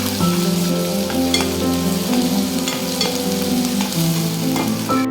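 Masala frying for a rustic village mutton curry, with garlic already browned: a loud, steady sizzle fills the whole stretch, broken by repeated scraping and stirring strokes of a spoon in the pan, with no talking.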